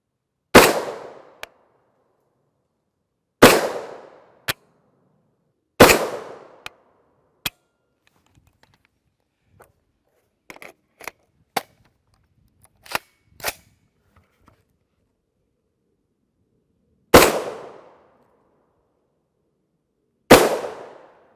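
An 8.6 BLK rifle firing subsonic 285gr ELD-M rounds without a muzzle device cracks out five loud, sharp shots spaced seconds apart, with scattered metallic clicks and clinks of brass and bolt work in the pauses.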